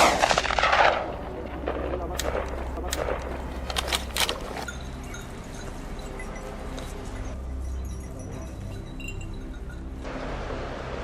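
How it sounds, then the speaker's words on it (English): A hunter's rifle fires at a wild boar on a hillside edge: several sharp, loud reports in the first few seconds, then a lower steady rumble with no further shots. "He swiftly pulled the trigger and the boar collapsed"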